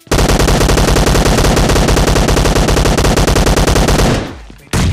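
Rapid automatic gunfire rattles through a squad-versus-squad battle in a shooting game, a loud, close, unbroken burst of shots lasting several seconds before a brief pause and another short burst.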